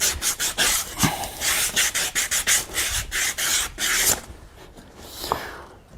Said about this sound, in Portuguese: passar uma lixa para poder deixar mais liso o casco